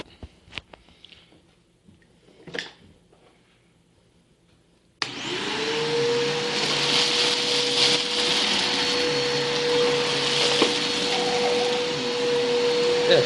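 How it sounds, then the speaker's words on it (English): A Bissell Powerforce vacuum cleaner, rebuilt with upgraded bearings, switches on abruptly after a few quiet knocks and keeps running loud and steady with a constant motor whine. "And we'll vacuum that up."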